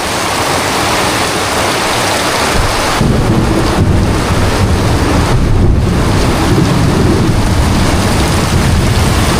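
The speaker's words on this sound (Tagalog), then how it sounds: "welcome tayo sa napakalakas na ulan at biglat" Heavy rain pours down outdoors on a farm, a loud, dense, unbroken roar that swells stronger partway through, with no talk heard.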